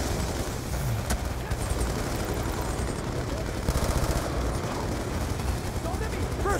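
Shotgun fire in Call of Duty: Black Ops 2, dense loud bursts of gunfire and blasts packed together continuously, with shouted voices mixed into the combat din.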